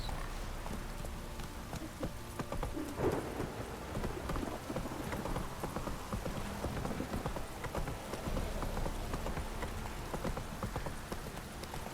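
Steady rain patters throughout while horse hooves clop along rhythmically underneath, in the video game The Witcher 3.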